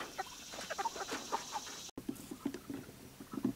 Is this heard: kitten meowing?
no